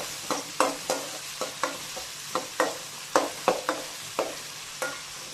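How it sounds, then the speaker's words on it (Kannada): Masala of onion and tomato frying in a pan for chicken green masala, with a run of sharp stirring scrapes and sizzles every half second or so over a soft, steady frying hiss. "ಇಲ್ಲಿ ನಾನು ಮಸಾಲೆಯನ್ನು ಫ್ರೈ ಮಾಡಿ ತಗೊಂಡೆ"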